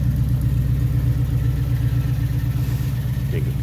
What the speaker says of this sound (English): Nice running truck.